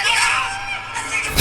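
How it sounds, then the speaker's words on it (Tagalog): A sudden scream bursts out during a TikTok live stream, a loud, high, strained cry that rises sharply at the very end of a busy, noisy stretch. "Sumigaw bigla."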